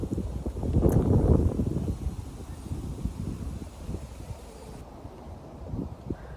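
Gusty wind buffets the microphone on a cold, chilly November day in a country park in Shanghai's southern suburbs, with a strong rush early on that eases to a steady low rumble.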